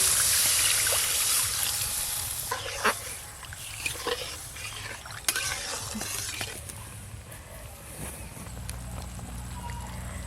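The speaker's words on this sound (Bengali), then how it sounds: "এবার পরিমাণ মতো জল দেব" Water poured into fried mustard and poppy seed spice paste in a pan while cooking a pabda fish curry: a steady hissing, bubbling wash with a few scraping stirs and small knocks.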